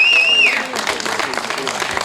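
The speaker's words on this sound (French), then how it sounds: "pour le vainqueur de la dernière étape, on l'applaudit comme vous savez le faire, Johan Soub." A crowd at the final podium ceremony of the 2019 Tour des Landes cycling race in Aire applauds the stage winner, with scattered clapping and cheering that follows a brief whistle-like tone at the start.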